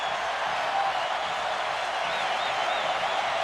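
A packed baseball stadium crowd roars steadily at the 2007 ALDS between the Indians and Yankees, a dense, sustained cheer with the count at 3-2, two outs, bases loaded in a tie game, with a faint whistle rising above.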